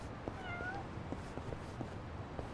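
A single short cat meow from Yakuza: Like a Dragon rises briefly against a busy city street background, with faint footsteps ticking through the noise.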